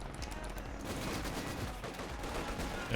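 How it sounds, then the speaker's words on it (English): Battle noise from the strategy game Company of Heroes 2 as British infantry fire a rifle grenade, steady rattling gunfire under a low rumble, ending in a sharp louder report. "Oh, see, he's firing a grenade."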